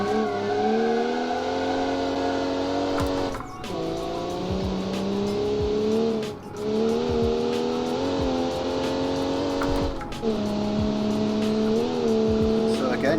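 A 3-litre inline-six engine in a budget sports car from a 1966-era car-building game drives steadily, its held engine tone rising and dipping with gear changes over about thirteen seconds.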